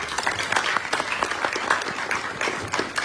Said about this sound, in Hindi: एक बार तालियां आपके लिए भी बनती है